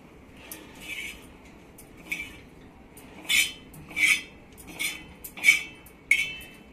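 Roasted dry coconut is scooped out of a pan with a metal utensil, giving a series of short, close scraping and clinking strokes at uneven intervals over a quiet background.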